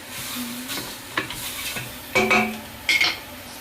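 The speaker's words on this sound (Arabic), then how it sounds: "افضل اشوح فيها كده شويه" Meat and vegetables for soup stirred in a pot, a few loud scraping and clanking strokes of a utensil against the metal with a light sizzle underneath, separated by quieter pauses.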